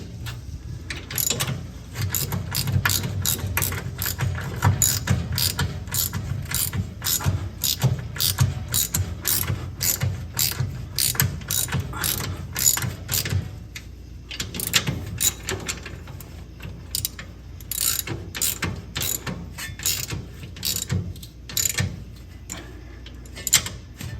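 Ratchet wrench turning long bolts while power steering is installed on a 1952 Chevy truck, a rapid, close run of sharp clicking strokes repeated in bursts with brief pauses, over a low mechanical background.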